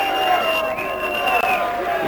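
A boxing crowd at a 1992 bout keeps up a steady, dense roar of cheering and babble, with voices talking over it throughout.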